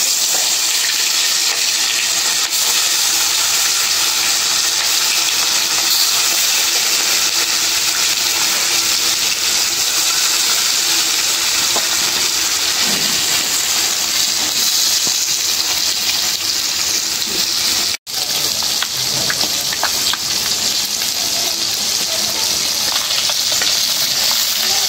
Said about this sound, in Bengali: তেলটা গরম হয়ে গেছে, দিয়ে দিই মাছ